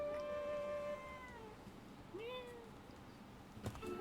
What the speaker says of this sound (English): The cat is back.